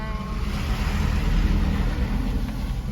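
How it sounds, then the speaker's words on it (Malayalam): A KSRTC bus approaching along a misty hill road gives a steady, moderately loud engine rumble with heavy low-end drone throughout and no voices. "KSRTC ബസ് വരുന്നുണ്ട് ഗൈസ്."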